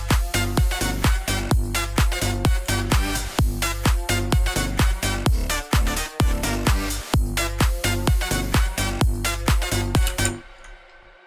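A future bounce EDM drop built in FL Studio with a pitch-bent lead layer, punchy kicks pumping in a driving rhythm under bright bouncy synths, loud and alone, cutting off abruptly at the end.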